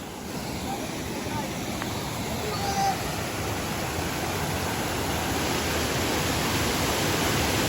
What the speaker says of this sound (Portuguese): eles falaram que isso é cachoeira